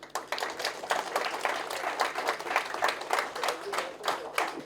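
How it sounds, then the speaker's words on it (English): Audience at an awards ceremony clapping steadily for the chairperson, a dense run of overlapping claps that swells and dips throughout, fairly close and moderately loud, with a faint murmur of voices underneath. "we give a big clap to K."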